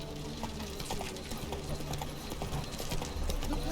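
Horse hooves galloping in The Witcher 3 video game, with a steady rapid clip-clop rhythm that continues throughout under a constant background rumble.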